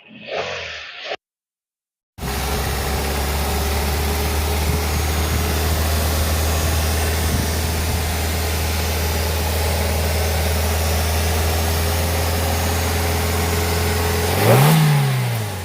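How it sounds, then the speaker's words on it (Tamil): A car engine idles with a steady low rumble, then revs up near the end, its pitch sweeping upward; a brief different noise precedes it. "என்ன மாதிரி ஒரு என்ஜின் பாருங்கள் சூப்பராக இருக்குது சார் வண்டியை ரைஸ் பண்ணுங்கள்"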